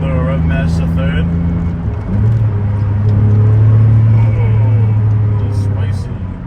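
A manual Porsche on a windy city street, its engine droning and swelling through a low, steady rev that rises and holds before easing off, loud and close, with the rumble dominating and voices faintly mixed in.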